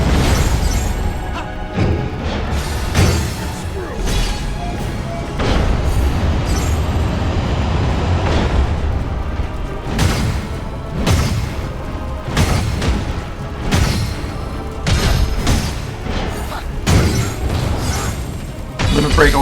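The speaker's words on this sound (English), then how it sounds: "Limit break always ends with that explosion." A limit break attack in Stranger of Paradise ends in a loud explosion, with booming crashes and shattering impacts layered over continuous dense battle noise throughout.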